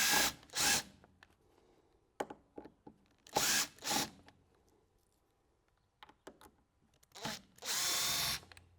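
A power screwdriver backs Phillips screws out of a fridge door hinge in several short whirring bursts, close and loud, separated by quiet pauses and small clicks of handling.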